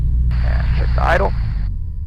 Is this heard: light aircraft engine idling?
yes